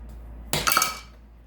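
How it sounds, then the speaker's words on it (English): A short burst of metal clinking against a bowl as eggs and sugar are whisked together, a few quick close taps that ring briefly and fade. "Just give it a good whisk. Incorporate the eggs in the sugar."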